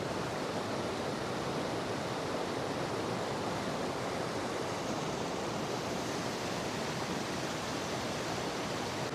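Rushing water of Sathodi Falls, a waterfall in Karnataka, roaring as a steady, dense broadband wash that holds constant and loud throughout with no voices.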